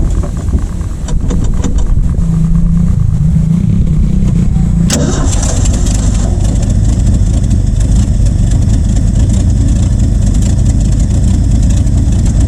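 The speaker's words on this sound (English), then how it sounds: "It's even idling, which is awesome. It's running really rough" An old Ford F350 pickup truck engine cranks with a whirring starter, then catches and settles into a loud, rough, uneven idle that rumbles on continuously.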